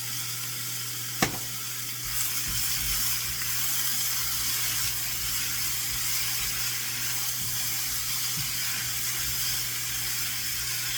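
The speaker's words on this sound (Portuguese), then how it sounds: "Vou colocar os tomates agora picados, tá?" Chopped tomatoes sauté in a pan over high heat, giving a steady close sizzle and hiss with a low background hum and one sharp clatter near the start.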